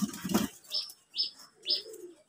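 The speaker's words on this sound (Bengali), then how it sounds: "এটা হচ্ছে সেই কবুতরটা" A pigeon gives a few short calls in a quiet room, three brief bursts spaced evenly after a soft opening rustle, close and fairly faint.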